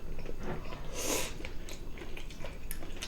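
Close chewing of braised aged kimchi with mackerel, a soft, wet mastication with one brief louder bite in the middle over a steady low background, no talking.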